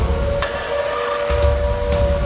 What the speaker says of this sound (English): Why do you have the Silent Hill siren?